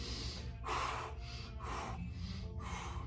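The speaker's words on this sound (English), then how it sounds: "A couple big deep breaths with each position." Slow, deep breaths during a flexibility stretch, heard close up as about five or six distinct breathy inhales and exhales in steady alternation, with no talking.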